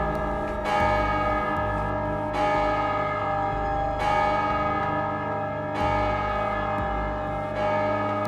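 Large church bells ring out in slow succession, each strike swelling and decaying into a rich, overlapping drone close by.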